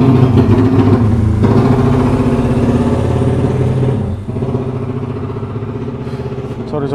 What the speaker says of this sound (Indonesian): Ada naik sepeda motor kok. Keras sekali knalpotnya bos.